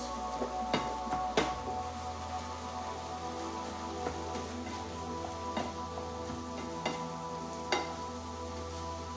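Beef stirred around in a frying pan, a steady sizzle with scattered light scraping ticks and clinks from the utensil, close and continuous with no talking.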